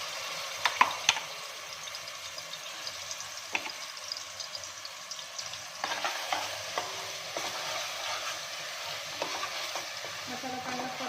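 Ground masala paste fries in hot oil for a crab curry with besan stuffing, a steady close sizzle with scattered crackles and a few sharp spatula scrapes, no voices.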